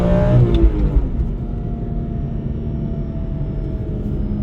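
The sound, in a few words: high-mileage car with S54 engine driving, noisy engine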